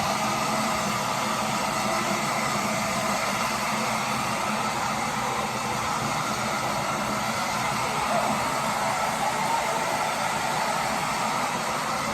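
A hair dryer blows steadily while drying a dog after its bath, a constant loud whooshing hum with no pauses that fills the whole stretch.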